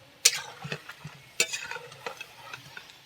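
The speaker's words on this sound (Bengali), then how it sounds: "আর কয়েকটা দিয়ে দেব পাপন পিঠাগুলো এরকমভাবে সব ভেজে নেব" Pakan pitha, a hand-shaped Bengali milk pitha, frying in plenty of oil over low heat, with soft bubbling sizzle and a few sharp clinks and scrapes from a utensil stirring the pan, close up and without talk.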